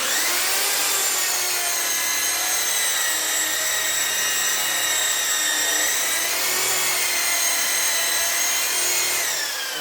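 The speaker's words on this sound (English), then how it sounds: "I am tilting the buffer sideways a little bit to do my buffing" A car buffer tilted sideways polishes a car's paint with a steady, high-pitched whine and rubbing hum that holds constant and continuous, close and loud, with no talking.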